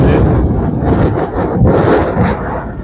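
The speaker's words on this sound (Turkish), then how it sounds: "rüzgar bugün kuvvetli arkadaşlar" Strong wind buffets loudly and continuously, with gusts rising and falling in a constant rough rush.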